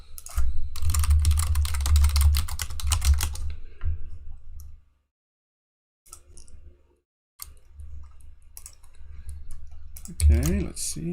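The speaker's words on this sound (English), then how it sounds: "Is the keyboard sound okay?" Rapid keyboard typing clatters close by in bursts, pausing into silence before resuming, with a voice speaking briefly near the end.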